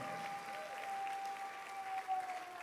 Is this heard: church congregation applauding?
yes